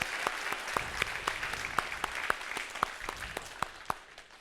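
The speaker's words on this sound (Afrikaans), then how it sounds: "kan ons vir die poppekas en vir almal wat deelgeneem het nog 'n handjie klap" A church congregation at a Mother's Day service applauds, steady clapping from a fairly large crowd, moderately close, lasting several seconds.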